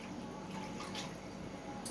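Water poured into a cooking pan over semiya (vermicelli) for chicken bagara semiya: a soft, steady splashing stream, faint and close, with no talk.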